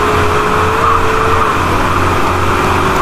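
Car engine in GTA San Andreas, a loud, steady in-game motor drone with a held tonal whine that dips partway through, continuous and close without speech.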